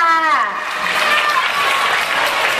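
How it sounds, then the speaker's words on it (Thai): Applause breaks out for the winner at an award ceremony, a dense patter of clapping that swells after a brief moment and carries on steadily while a voice speaks over it. "ปรบมือให้กับ พี่แพรวาด้วยค่ะ"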